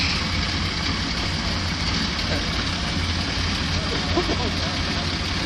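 A classic Vauxhall car engine runs steadily with a low, continuous rumble and no clear revving, heard close and loud throughout.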